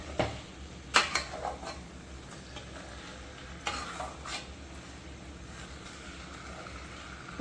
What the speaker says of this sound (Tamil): சிம்மில் வச்சு நம்ம சிக்கனை கொஞ்சம் வதக்கணும்.